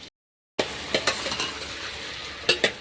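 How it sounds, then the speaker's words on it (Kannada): Potatoes and onions frying in a pan, heard alone as a steady close sizzle with several sharper stirring and scraping clatters scattered through it, after a brief silent gap at the start. "ನೋಡಿರ ಆಲೂಗಡ್ಡಿ ಉಳ್ಳಾಗಡ್ಡಿ ಈಗ ಚಂದ ಫ್ರೈ ಆಗ್ಯದ"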